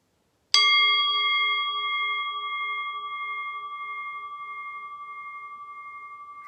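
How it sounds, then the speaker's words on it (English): One strike of a meditation bell opens a mindfulness practice, a clear bright ding that rings on alone in a quiet room, its pure tone slowly fading over several seconds with a gentle pulsing shimmer. "I'm going to ring the bell just to signify the beginning of the practice"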